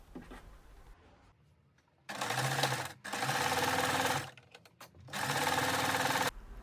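A sewing machine running in three loud sustained bursts of rapid stitching through fabric for pants, with quieter gaps and soft handling noises between runs.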